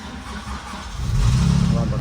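A Chrysler 300 with a throttle-pedal fault is started at close range: the cranking turns into a loud, steady engine roar about halfway through, with a person talking nearby.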